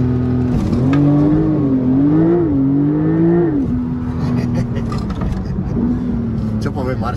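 Porsche 911 Turbo S launching at full throttle, engine note climbing steeply then shifting and pulling again, loud and close from inside the car, with a voice speaking over it.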